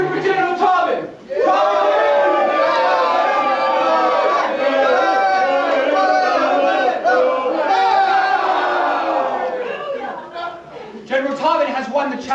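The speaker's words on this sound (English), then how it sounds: "let's cheer for General Tobin!" A large crowd cheers and shouts for General Tobin after his victory in combat, a dense, sustained roar of many voices with whoops, broken briefly near the start and thinning toward the end.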